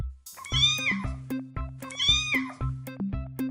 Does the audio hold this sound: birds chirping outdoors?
no